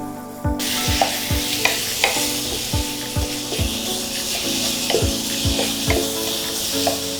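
Onion paste and turmeric powder stirred in a sizzling pan, a spoon scraping in a steady repeating rhythm of strokes over continuous loud frying hiss, close up with no talking.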